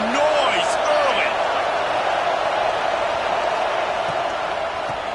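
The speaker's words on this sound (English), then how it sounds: "The roar of the crowd trying to fuel this defense to keep them pinned in their own end." A football stadium crowd at a Razorbacks game roars steadily and loudly throughout, a dense sustained wash of cheering with faint announcer talk near the start.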